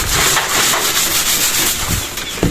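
A container is scraped and rubbed clean of sand by hand, giving close, gritty scraping strokes in quick succession, with a few knocks near the end.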